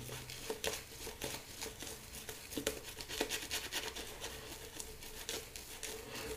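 A razor scraping through a thin, slick lather of Grooming Dept Ambra shave soap on a final pass, giving a steady run of soft, close crinkly scratches with small bursts, no voices.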